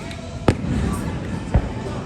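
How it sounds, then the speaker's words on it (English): Fireworks are shot off at an amusement park at night, giving two sharp distant pops over a steady wash of crowd and ambient noise. "They are shooting off their fireworks right now"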